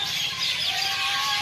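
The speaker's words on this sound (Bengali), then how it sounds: "পাখির শব্দ শোনেন" A huge flock of birds, thousands of them, calls from the trees in a dense, steady chorus of high chirps and tweets that fills the whole stretch without pause.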